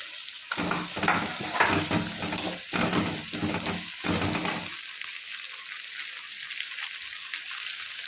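Onions and tomatoes sauté in a pan for macaroni pasta, a loud, close sizzle and stirring for several seconds that then drops to a soft, faint hiss.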